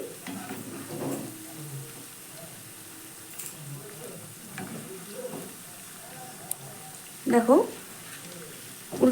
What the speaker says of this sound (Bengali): দেখো এখানে পকোড়াগুলো কিন্তু সুন্দর ভাজা হয়ে গেছে